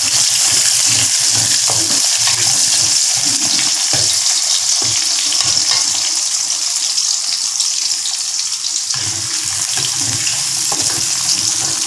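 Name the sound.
frying curry leaves, garlic and onion in a pan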